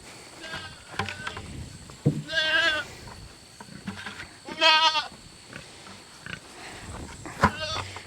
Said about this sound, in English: Come on, Billy Goat.